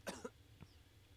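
A cough sound effect from The Great Ace Attorney Chronicles video game: a sharp double cough followed by a softer third one, close and clear against quiet background music.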